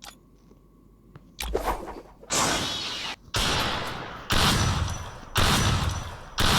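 Gunfire from a shooting video game: loud bursts of rapid automatic fire in several sustained volleys, separated by brief pauses.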